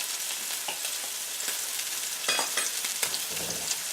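Steak sizzles and fries in a hot pan with butter while being basted, a steady close crackle with brief louder spatters and stirring scrapes, no talking.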